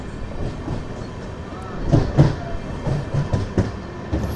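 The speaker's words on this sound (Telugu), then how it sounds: "మన ట్రైన్ ఇక్కడ నుంచి స్పీడ్ అయితే లాగుతాడు" A train rumbles along the rails, picking up speed, with a steady low roar and rhythmic clacks of wheels over track joints, heard from close by.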